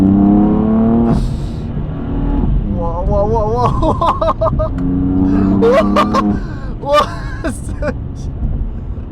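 A BMW M4 accelerating with its engine note rising in pitch through several gear changes, loud and close from inside the car, while people talk over it throughout.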